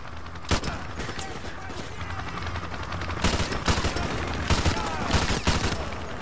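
Gunfire in Call of Duty Modern Warfare Remastered, with bursts of automatic fire and single sharp shots that crack out repeatedly over a dense battle bed, loud and close, with voices calling out among the shots.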